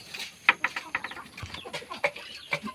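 A five-month-old Belgian Asil stag rooster clucks and makes short throaty calls in a rapid, uneven series, close by over a faint background.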